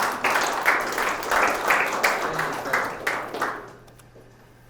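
An audience at an internship presentation claps, a dense burst of applause that stays steady for about three seconds and then tapers off quickly into quiet, with one brief spoken word near the start.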